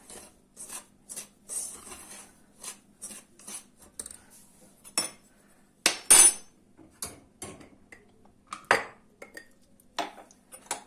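A spoon stirs a dry mix of flour, starch and sugar in a bowl, making a quick run of close, light scrapes and clinks at an irregular pace, with no talking.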